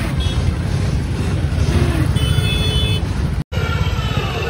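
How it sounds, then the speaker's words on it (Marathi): Heavy street traffic at a busy junction in Bhiwandi during the Ganpati festival, a steady loud rumble of engines with passing vehicles and a thin tonal whine, close and continuous. "बघू शकता इथं फुल ट्रॅफिक आहे"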